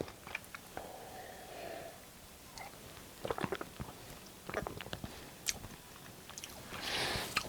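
Crunchy snacks eaten alongside lager are chewed up close, giving repeated crisp bites and crunches with wet munching between them and no talk.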